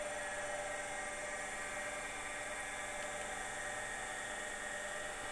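A single-phase induction motor under a load test hums and whines steadily at constant speed, an even mechanical drone with no change and no voices.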